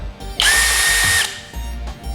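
A cordless drill-driver whirs steadily at high speed for about a second, with a faint ratcheting mechanical rumble before and after.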